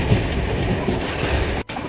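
Velankanni Express rolling along the rails between Goa and Madgaon, a steady loud rumble with rhythmic wheel clatter, briefly cut by a short dropout near the end.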